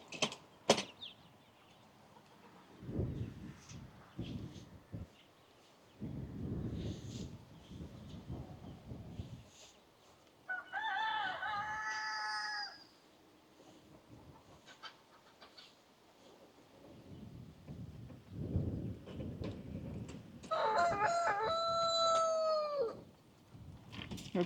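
Bantam chickens and baby chicks call in a muddy yard being spread with mulch, with two bursts of crowing-like calls and scattered soft clucks and rustling in between, fairly close and moderately quiet.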